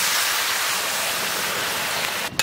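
Water pours into a pot of braised chicken curry with kumro (pumpkin) as a continuous, close, rushing splash lasting a couple of seconds. A brief clatter follows at the very end.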